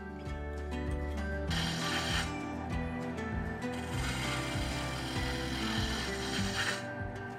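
Wood being turned on a lathe to cut tapers into a Shaker-style stool leg, a steady mechanical whir with continuous rough cutting and scraping that swells and fades as the tool passes along the spinning piece.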